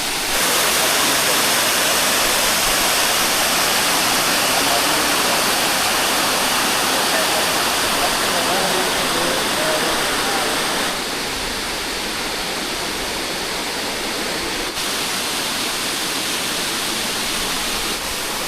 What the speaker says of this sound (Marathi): तुम्ही बघू शकता किती मोठा धबधबा आहे